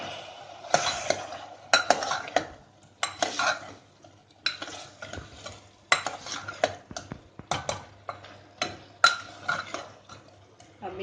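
A spoon stirring raw banana curry masala in a pan, repeated scraping strokes against the metal in an uneven rhythm, with a faint sizzle and occasional clinks between strokes.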